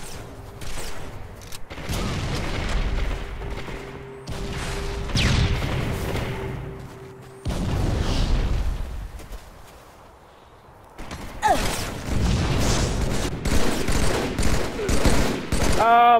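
Gunfire and explosions erupt in Halo 3 multiplayer combat: rapid automatic bursts, sharp single shots and booming blasts in dense, continuous succession, with brief lulls between volleys.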